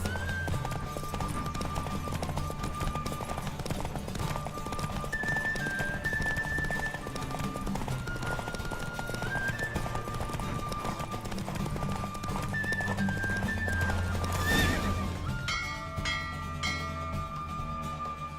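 Roach, a horse in The Witcher 3, gallops through a race with rapid, continuous hoofbeats, a neigh rising briefly above the drumming, mixed with game music and a short burst of louder noise near the end.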